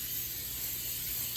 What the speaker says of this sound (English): I just like to spray my dishes.